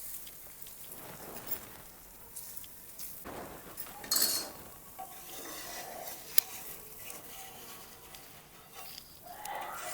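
Spring roll vegetable filling spread over a half-cooked dosa on an iron tawa, a soft sizzle with light scraping and a few metal clinks, one sharp tap, no talk.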